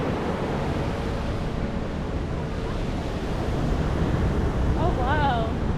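Sea waves break on the beach at Torrevieja, a steady loud wash of surf roaring continuously with wind buffeting the microphone, and a brief high whine near the end.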